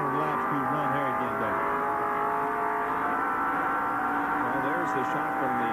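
NASCAR race cars in the 1989 Goodwrench 500 roar around the racetrack in a sustained, loud engine drone, with a commentator talking over the noise.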